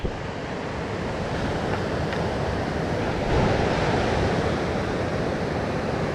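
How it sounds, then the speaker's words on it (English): Steady, broad rushing of a mountain creek flowing nearby, a constant dense wash with a slight swell partway through and no voices. "Flowing down into the salmon. Love that sound."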